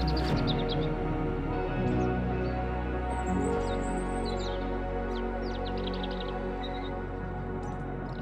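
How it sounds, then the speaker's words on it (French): Birds sing and chirp in a small forest beside a forest trail, several short high calls scattered across the clip over a steady low background hum, no talking. "il y a les oiseaux qui chantent"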